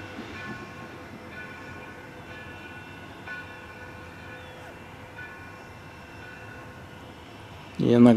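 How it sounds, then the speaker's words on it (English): A train rolls up on the tracks to couple with a diesel ahead of steam locomotives, a low rumbling drone with faint squeals and clanks that stays steady, then ends in a sudden loud burst. "Looks like that train is coming up now, and he's going to hook on to the other one"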